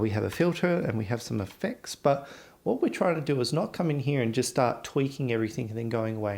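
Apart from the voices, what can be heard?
None of the usual background noises is heard.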